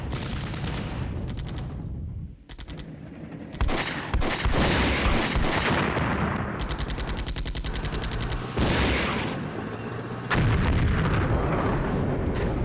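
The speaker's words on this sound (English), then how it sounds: "I'm firing all at once, one shot, so I hope I can get him all there." Heavy artillery fire in the wargame Flashpoint Campaigns: Red Storm, with loud, continuous rolling blasts and booms from a salvo fired all at once, lasting throughout with brief dips between surges.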